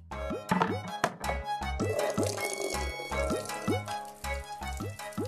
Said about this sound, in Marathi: हे किती सकाळपासून बादल्या भरतीये, सारखी पाणीच भरतीये.